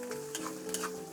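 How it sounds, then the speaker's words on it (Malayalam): Garlic and frozen curry leaves frying in oil for a watermelon rind pickle, a brief, soft, steady sizzle with a faint stirring tick, no voices. "വെളുത്തുള്ളി നന്നായിട്ട് വഴന്നിട്ടുണ്ട്"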